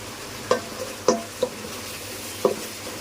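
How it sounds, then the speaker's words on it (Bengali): Spices with chilli, coriander and cumin powder sautéed in a pan: four distinct spoon scrapes and taps spaced irregularly over a quiet background sizzle, close by, with no one talking. "মশলাটা একটু কষিয়ে নিলাম।"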